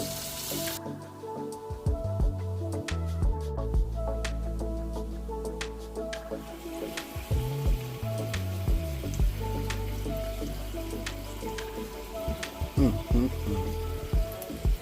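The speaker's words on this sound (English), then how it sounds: "Okay, so we're gonna flip our shrimp." Shrimp for honey garlic shrimp sizzle steadily in a hot pan, a continuous close frying crackle with a few clicks of the pan and tongs as the pieces are flipped.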